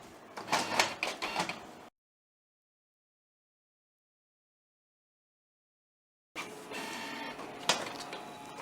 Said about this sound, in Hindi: अब जैसे मैं इसको ब्लैक बटन दबा देता हूँ तो ये इस समय पूरे प्रिंट आउट को ब्लैक में निकालेगा।